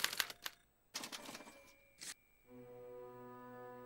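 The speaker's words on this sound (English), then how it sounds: "As the responses are recorded, they're relayed to this special typewriter, which prints out a punch card that represents the subject's mind map." Typewriter clattering in short bursts of rapid keystrikes, then a steady mechanical hum with whirring tones as it prints out a punch card, close and clear with no talk.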